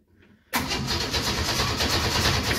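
The engine of a Holden Bedford rat rod cranks over on the key with no fuel connected, starting abruptly after a quiet moment and then grinding on steadily and loudly.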